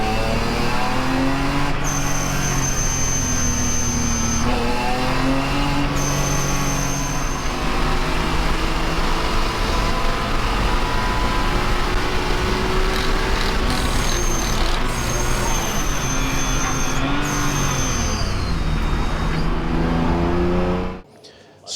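A supercharged BMW E46 M3 on a race track during a shakedown, its engine droning loud and steady close by, with rising and falling revs through gear changes and a whine overhead, before cutting off abruptly at the end.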